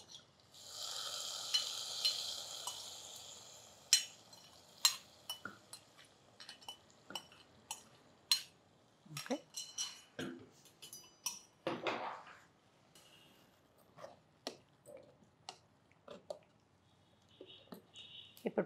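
Fried raisins and cashews tipped into payasam in a kitchen, heard as scattered light clinks and soft spoon taps against a metal pan, with a faint sizzle at first and short scraping sounds later.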